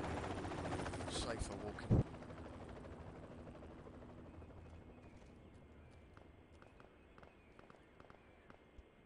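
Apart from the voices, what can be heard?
helicopter approaching in the video game Project Reality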